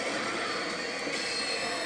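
A battle train sound effect plays on a pachislot machine: a steady, loud, broadband rushing and rattling like a train on rails, unbroken for the whole two seconds with no talk.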